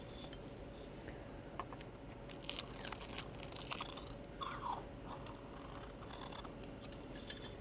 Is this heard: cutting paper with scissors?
yes